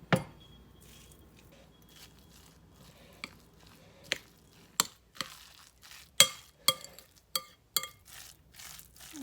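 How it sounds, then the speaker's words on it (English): A salted zucchini fritter mixture being mixed in a bowl: scattered soft squelches and light taps, sparse at first and then coming quicker in irregular bursts, close and fairly quiet with no talking. "So now we're just going to give this a mix and get it well incorporated."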